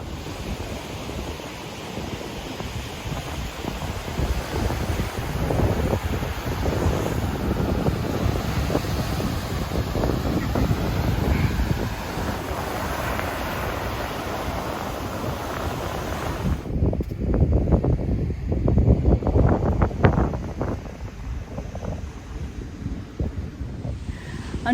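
Strong wind buffets the microphone on the beach at Blowing Rocks Preserve, a constant roar blended with surf, loud and unbroken throughout with no speech.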